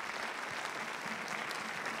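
A small studio audience claps at the opening of the 2021 Teletón, a steady patter of applause from a limited crowd, moderately quiet and even throughout.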